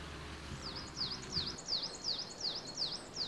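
A bird beside the Aliakmonas river in Kastoria gives a rapid, rhythmic series of sharp, high, repeated chirping calls, clear and fairly close against a soft outdoor background.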